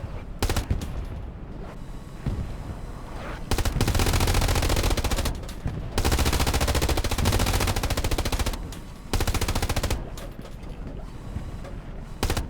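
Tank-mounted machine gun fired from the hip in the Hell Let Loose war game, loud rapid bursts broken by short pauses, with dense clattering gunfire filling the whole stretch.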